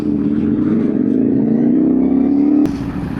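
Steady close engine drone with revving from a motorcycle ride through heavy road traffic in Mindanao, holding loud and continuous before a sudden shift near the end.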